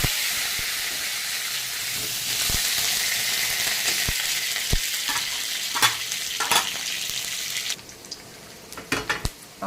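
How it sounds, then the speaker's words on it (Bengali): Potato pieces fry in hot oil in a pan with a steady broad sizzle, broken by sharp clicks and scrapes of a spatula stirring, the hiss dropping slightly near the end. "এই আলুটাকে ভেজে নেব"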